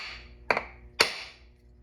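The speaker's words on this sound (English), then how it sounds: "We're going to get a block of wood and a hammer and tap that loose." A hammer strikes a block of wood held against a stuck thermostat part on a Mercedes CLK 350 with an M272 engine, two sharp, close taps about half a second apart over quiet background.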